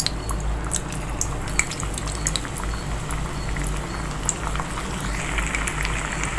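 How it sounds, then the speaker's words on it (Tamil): Taro root (cheppankizhangu) vada deep-frying in hot oil, a dense, continuous bubbling crackle with fine popping throughout, steady and close. "இப்போ எண்ணெய் சூடாயிடுச்சு. ஒரு வடையாக போட்டு எடுத்துடலாம்."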